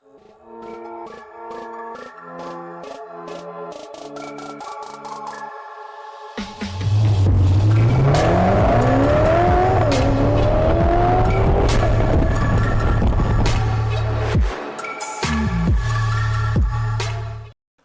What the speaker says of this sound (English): Right now I'm riding the Moto MT650.